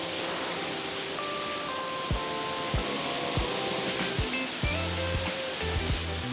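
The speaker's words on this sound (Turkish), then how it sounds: "Ve şelale göründü." A waterfall on Koh Samui, Thailand, roars as a steady broadband rush of falling water, loud and continuous, with faint tonal ringing and occasional soft thumps beneath it.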